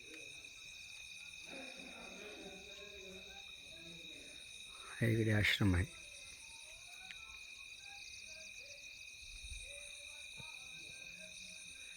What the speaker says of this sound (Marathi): किर्र जंगल आहे किर्र किड्या रातकिड्यांचा आवाज तुम्हाला येत असेल